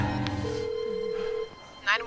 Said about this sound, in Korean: 그때 휴대폰이 울리고